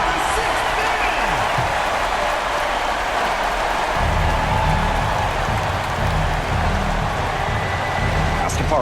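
A crowd in a basketball arena at a Minnesota Lynx versus Connecticut Sun game keeps up a loud, continuous roar of cheering and clapping, with a steady low rumble joining partway through.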